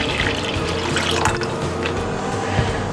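A steady stream of water pours and splashes into a bowl, continuous and close, with no talking.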